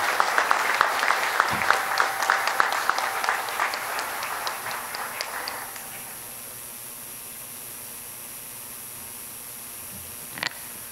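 Applause at a university accreditation ceremony, a crowd clapping steadily for several seconds and then fading out, leaving quiet room tone and a single faint knock.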